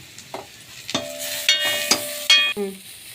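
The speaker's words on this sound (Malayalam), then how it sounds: "തക്കാളി ഇട്ട് കഴിഞ്ഞ് തക്കാളി ഒന്ന് ഇളക്കാം." Tomatoes stirred in a hot pan, a few scraping spoon strokes and soft sizzling in bursts, close by, with no talk.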